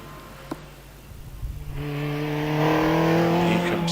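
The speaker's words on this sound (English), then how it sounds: "Andrew goes in the Caterham, based of course on the original Lotus 7." A Caterham race car, a Lotus 7 derivative, climbing the hill at a Prescott hillclimb event, its engine note rising from faint to a loud, sustained, steadily pitched drone as it approaches and accelerates.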